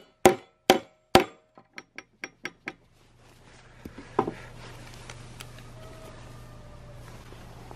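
Hammer blows drive a fastener into the wooden frame of a mobile pasture pig shelter: three loud, ringing strikes, then six lighter quicker taps, a faint knock around the four-second mark, and quiet outdoor background.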